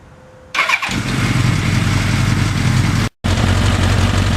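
A 1982 Suzuki GS1100E motorcycle engine cranks and fires up, then settles into a loud, steady rumbling idle with a brief cut near the end.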